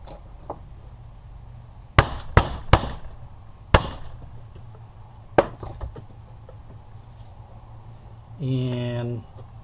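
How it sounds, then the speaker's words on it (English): A steel chisel is hammered against a circuit board to knock chips off, giving about six sharp metallic whacks spaced irregularly, close and crisp, with a short hum of voice near the end. "So again, we put the chisel up against it."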